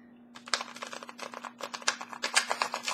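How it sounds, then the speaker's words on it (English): A deck of tarot cards is shuffled by hand during a reading, giving a quick run of crisp riffling clicks that grows denser and louder toward the end over a faint steady hum. "I'm going to try and shuffle one more time."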